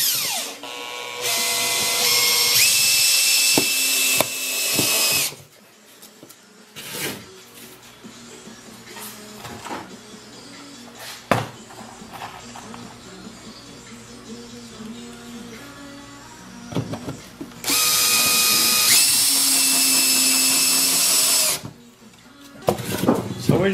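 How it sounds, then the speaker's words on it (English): A power drill driving screws down into boards on a Habitat for Humanity house build, with loud sustained whirring bursts at the start and end, quieter clatter and knocks in between. "Start by just screwing it down."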